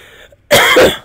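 A man in the Resident Evil 6 video game lets out a single harsh, close cough after a moment of near silence, a rough throaty burst lasting about half a second.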